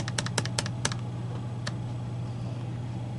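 Keys clatter on an HP Compaq NC6120 laptop running Windows XP Pro, a quick burst of about eight close, crisp clicks in the first second, then one more tap after a pause, over a faint steady hum.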